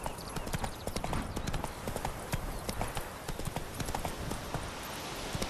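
Horse hooves clip-clop steadily in The Witcher 3, a brisk, continuous rhythm of hoof strikes close by, with faint game sounds underneath.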